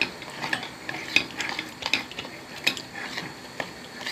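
A spoon scrapes and clinks around a pan as sugar melts into butter, light irregular stirring taps and scrapes, close and fairly quiet, with no talking.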